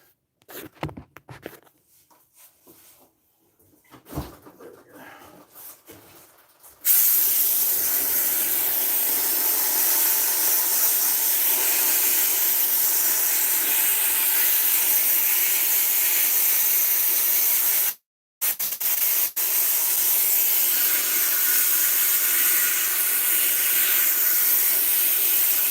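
Steam hisses loudly and steadily from a steamer defrosting a Frigidaire refrigerator with a defrost problem, after a few seconds of quiet handling noises; the hiss breaks off briefly once, then resumes.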